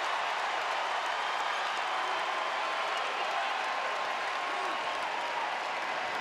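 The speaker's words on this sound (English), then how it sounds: "This crowd has showed up, they've got that juice, there's a buzz" A packed college basketball arena crowd hums and cheers in a steady, dense roar at an ACC men's game between Boston College and North Carolina, with a broadcast commentator talking over it.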